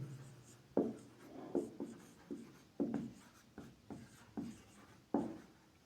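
Chalk writes a heading on a classroom board in a series of distinct strokes and taps, each sharp onset followed by a short scratch, close and fairly quiet with no voice.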